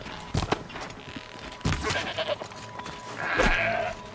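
Goat bleating in the video game Horizon Zero Dawn: The Frozen Wilds, a few short bleats spread across the moment over game ambience, with a longer, louder call near the end.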